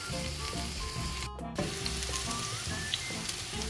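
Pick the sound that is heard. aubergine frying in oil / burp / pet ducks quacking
aubergine frying in oil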